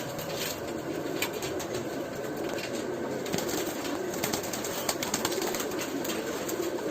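Pigeons coo softly amid a busy flock, with bursts of wing flapping and fluttering over steady outdoor background noise.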